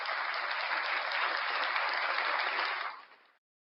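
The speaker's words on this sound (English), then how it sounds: "Another round of applause for Mrs." A room of people applauds a guest at a morning breakfast show, dense steady clapping that holds for about three seconds and then stops abruptly, with no voices.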